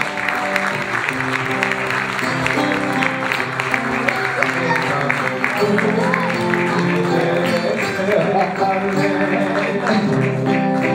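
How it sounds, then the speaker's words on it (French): An audience at an anniversary celebration for a Montreal community project applauds steadily as a guest is called up on stage, with music-like tones and a voice mixed in. "Je vous demande d'applaudir très fort Monsieur Layashi Roabi."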